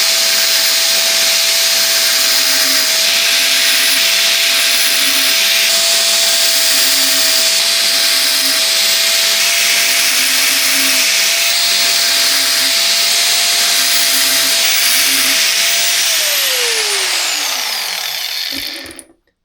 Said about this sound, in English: So I'm going to use the grinder again.